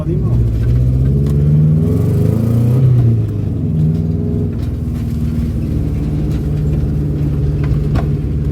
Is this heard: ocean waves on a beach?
no